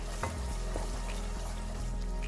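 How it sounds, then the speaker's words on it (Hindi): Chickpea curry masala with cumin powder and other spices being stirred in a pan, a steady close sizzle of frying with scraping stir strokes and clinks, no voices. "मिक्स कर लेंगे सबको, अच्छी तरह मिक्स कर लेंगे।"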